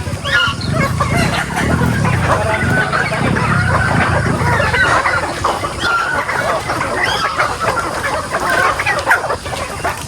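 Free-range backyard chickens cluck and chatter close by in a busy, overlapping flock, with steady murmuring calls throughout and louder bursts at the start.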